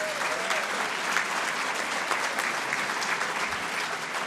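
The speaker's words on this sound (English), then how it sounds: "Let's give Brother Jason another big round of applause." Banquet audience applause for Brother Jason at a keynote event, sustained even clapping from a room full of people that holds steady for several seconds with no one speaking.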